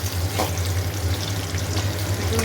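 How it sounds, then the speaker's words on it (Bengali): Potatoes fry in a pan of hot oil with a continuous, even sizzle and fine crackle, close up, with a low steady hum underneath and no talking. "আলুগুলো দিয়ে দিয়েছি এবার আলুগুলো আস্তে আস্তে ভাজা হোক"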